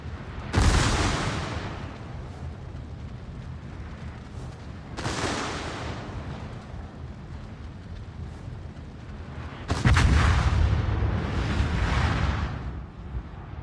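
Naval destroyer guns firing at an enemy warship in a video game, three heavy booming salvos a few seconds apart, each decaying into a long rumbling roar.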